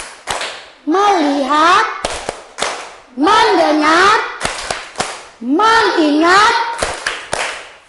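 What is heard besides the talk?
rhythmic 'tepuk fokus' focus clapping in a classroom ice breaker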